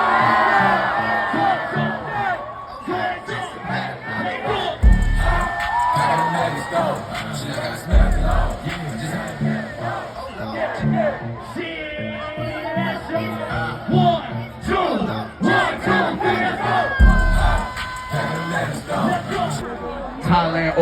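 Festival crowd at Rolling Loud Thailand, a loud dense mass of voices chanting and cheering along over pounding music with deep bass hits, continuous throughout with occasional whoops rising above.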